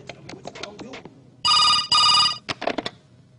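A telephone ringing just after a call is placed, two loud electronic bursts in quick succession, with speech-like sounds before and after.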